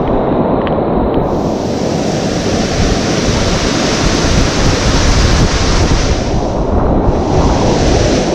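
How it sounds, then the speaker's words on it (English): Franconia Brook in the White Mountains runs high in fall, a loud, continuous rush of raging water close by with a gusty wind rumble over it, and no one speaks. "Look at that water raging."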